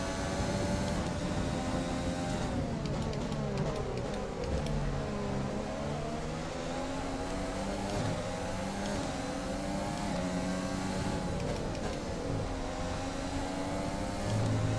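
F1 car engine in F1 2020 career mode at Bahrain, a continuous high-pitched screaming whine rising and falling through gear shifts and revs, loud and alone throughout.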